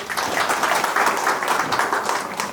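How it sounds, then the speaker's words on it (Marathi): A crowd at a road opening ceremony applauds the women who welcomed the guests, with dense, steady clapping that runs throughout. "त्यांच्यासाठी एक जोरदार टाळ्या होऊन जाऊ दे"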